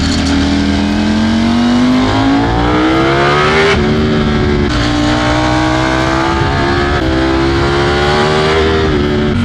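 A Ducati Streetfighter V4S engine roars loudly on a test ride, its pitch climbing through the gears with sharp drops at each shift.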